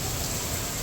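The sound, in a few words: rain during a thunderstorm at a zoo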